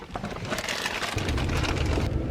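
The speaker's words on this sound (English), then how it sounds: "It's not raining very hard, but it's hard enough." Light rain falls outdoors on a dreary morning, a soft continuous patter and hiss that thickens slightly toward the end, heard alone without talk.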